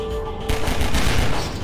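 Gunfire in Half-Life 2, a dense burst of rapid shots that starts abruptly after a brief quieter moment and continues steadily to the end, loud and close with no talking.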